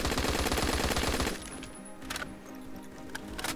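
An automatic Barrett rifle fires in the Phantom Forces video game, a rapid loud burst of shots for over a second that then cuts off, followed by quieter game sounds and a few faint clinks.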